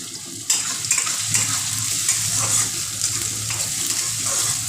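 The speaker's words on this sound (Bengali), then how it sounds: "পেঁয়াজটা আমার হালকা একটু ভাজা হয়ে গেছে" Onions fry lightly in a pan with a continuous close sizzle and hiss, broken early by a single sharp clatter of utensil on metal, with no one speaking.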